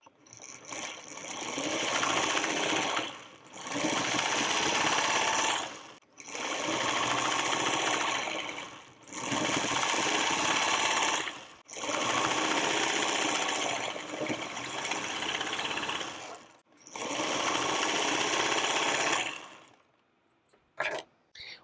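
A sewing machine stitches quilt block pieces together in six steady, loud whirring runs of a few seconds each, with brief pauses between them and a few small clicks at the end.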